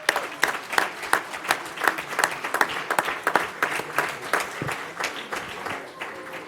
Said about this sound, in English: let's give them another round of applause if we can.